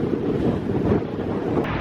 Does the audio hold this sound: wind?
yes